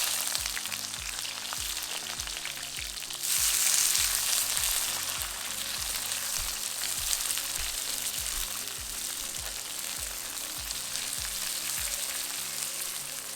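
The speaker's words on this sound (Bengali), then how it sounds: "পেঁয়াজটা ভাজা হয়ে গেছে" Chopped onions fry in oil with bay leaves, dried chilli and cumin for ghugni, a steady close sizzle with rhythmic scraping of the spatula and a brief louder hiss near the start.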